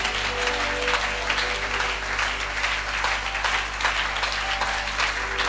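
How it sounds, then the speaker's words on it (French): A church congregation claps for the Lord in steady, dense applause, loud and sustained throughout, with a low steady hum beneath. "Clap for the Lord."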